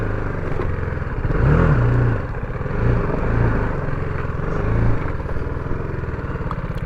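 A BMW G310R motorcycle ridden off-road, its engine droning steadily up close with repeated swells as the throttle rises and falls over rough ground.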